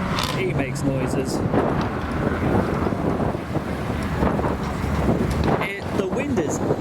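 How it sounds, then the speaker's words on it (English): Strong gusting wind buffets the microphone outdoors at a modified car show breakfast meet, a steady loud roar under nearby talk. "The wind is actually crazy."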